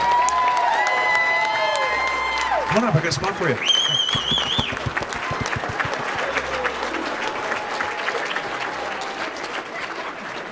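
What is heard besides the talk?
audience applause at hypnotist show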